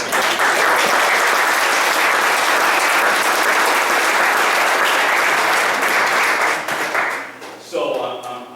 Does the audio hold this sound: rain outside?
no